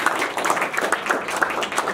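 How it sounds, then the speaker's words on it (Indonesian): Loud, dense applause and clapping from an audience at an open mic stand-up comedy show, filling the whole short moment without pause. "Boleh tepuk tangannya dulu."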